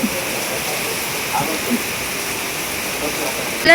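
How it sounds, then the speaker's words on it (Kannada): Heavy rain falls hard outdoors as a dense, steady rushing hiss that stays even and loud throughout. "ಸ್ವಲ್ಪ ಮಳೆ ನೀರು ಬೀಳಲಿ ಅಂತ ಇಕ್ಕಿದ್ದೀನಿ ನೋಡಿ, ಫುಲ್ ಜೋರು ಮಳೆ"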